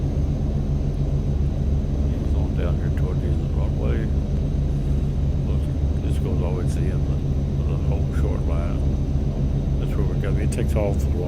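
A steady, loud engine rumble from an aircraft taking off from Juneau International in a flight simulator game, a constant low drone throughout with someone talking over it.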